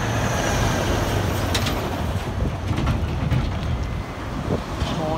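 A train waits at the Exeter Red Cow level crossing in Devon, its rumble and hiss rising and falling slightly, with a few sharp metallic clanks partway through.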